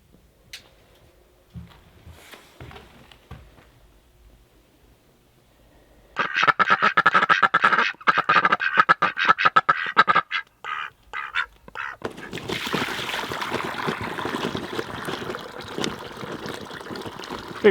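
Ducks quack in a rapid, loud burst of many overlapping calls after a quiet start with faint knocks, then fade into a steadier noisy mix, recorded close.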